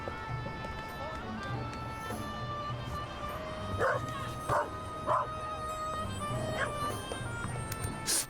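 A dog in The Raven video game barks in several sharp, separate yaps over a soft, steady game soundscape, with a faint voice talking underneath.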